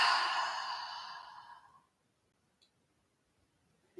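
A deep, breathy exhale during a yoga breathing exercise, loud at first and fading out over about two seconds, followed by near silence with a faint tick.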